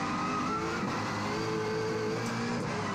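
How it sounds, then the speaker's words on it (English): A V8 race car screams at high revs down the front straight at Teretonga, a sustained, strained engine howl with shifting pitch, moderately distant and steady throughout. "Just listen to that car down the front straight, pulling those high revs."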